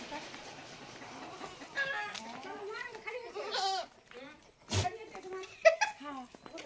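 Goats on a farm let out a series of wavering bleats, some near and loud, with farm fowl in the mix and people talking throughout.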